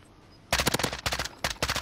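Close suppressing gunfire in Warzone, three quick bursts of rapid automatic shots after a brief quiet moment, each burst sharp and loud.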